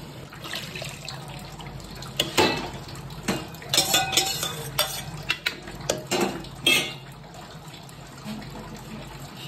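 Soup stock is poured into a pot of chicken and potato shorba with a liquid splash, and metal utensils clink and scrape against the pot in sharp bursts. There is no talk.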